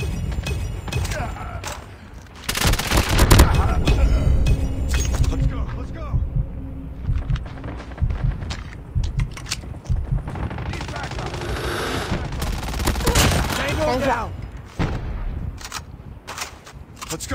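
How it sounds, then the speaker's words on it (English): Rapid bursts of Fennec submachine gun fire in a battle royale video game, loud and dense, with shots and game effects layered under voices talking throughout. "Oh, you took the Fennec? It's a high fire rate gunner, so don't scope."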